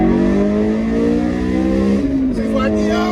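A 2007 Honda S2000 pulls hard in second gear, its engine rising in pitch under load, then dipping briefly near the end as a shift comes, with someone speaking over the engine.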